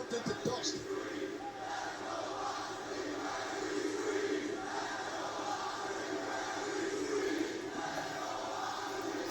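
A large wrestling crowd in Los Angeles chanting over a broad, sustained roar of voices filling the arena, with a rhythmic swell that recurs through the crowd noise.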